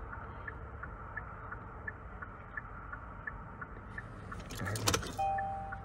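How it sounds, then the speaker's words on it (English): A 2023 Kia Sportage with a bladed transponder key: steady, evenly spaced ticking chimes from the dash, then a brief jangle of keys and clicks near the end as the ignition is cycled. "we'll cycle the ignition on and off a few times"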